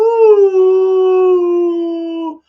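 A dog left alone at home howls in one long, sustained wavering cry, loud and close, picked up through a home security camera, with no voices over it.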